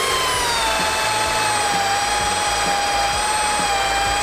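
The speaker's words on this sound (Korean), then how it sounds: "그러면 지금부터 파라솔 구멍을 만들겠습니다" A power drill bores a hole for a parasol, running loud and close with a steady high whine throughout and no voices.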